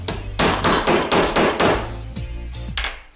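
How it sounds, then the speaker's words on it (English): A hammer taps a metal eyelet setter about six times in an even rhythm, with sharp, ringing metallic strikes close up, followed by a couple of lighter taps. "Take your trusty hammer and tap it a few times."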